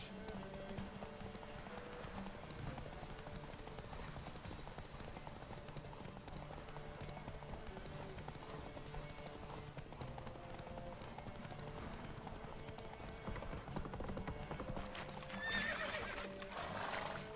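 Hooves of a galloping horse in The Witcher 3: Wild Hunt, a continuous fairly quiet rhythm of clip-clops under game sound, growing a little louder near the end.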